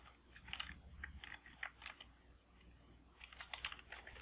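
Quiet, irregular clicks and taps of keys being pressed in short bursts, close and faint, with pauses between runs.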